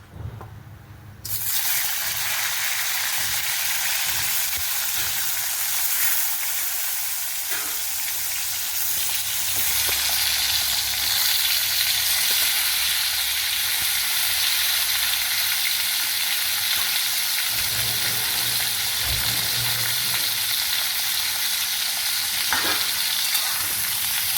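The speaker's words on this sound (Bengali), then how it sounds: "তেলটা গরম হয়ে গেছে, এবার আমি কাঁকরোলগুলো দিয়ে দিচ্ছি।" Pointed gourd (kakrol) dropped into hot mustard oil in a wok bursts into a loud sizzle that holds as a steady, close hiss of frying, with faint stirring scrapes and no talk.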